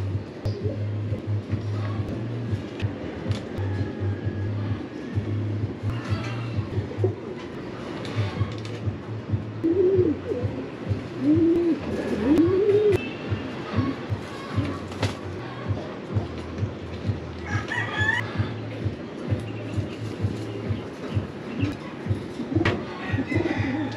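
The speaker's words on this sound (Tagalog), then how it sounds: "Nagpunta na naman dito yung ibon par" Pigeons coo in a breeder loft, a few soft rising coos around the middle over a steady low hum and scattered clatter, moderately close.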